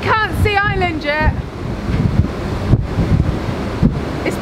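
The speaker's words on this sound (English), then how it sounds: "We're outside. It's really windy." Strong wind roars and buffets the microphone outdoors on a boat crossing to Ireland, with gusty rumbling throughout and a brief burst of voices near the start.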